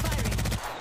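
Rapid automatic gunfire from a weapon in the video game Apex Legends, a fast, loud burst of regular shots lasting about half a second before cutting off.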